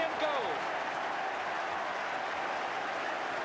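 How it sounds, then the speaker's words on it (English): Football crowd at a Luton Town v Leicester City match applauding and cheering a goal, a broad distant wash of clapping and roaring that holds steady throughout. "The crowd celebrate, and Maldoneki gets his 7th goal"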